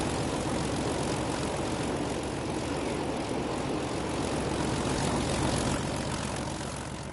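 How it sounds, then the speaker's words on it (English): A propeller aircraft passes by in Train Sim World 5, heard as a loud, steady engine drone that fills the whole stretch and swells slightly toward the end, with no talk. "Shall we do a flyby?"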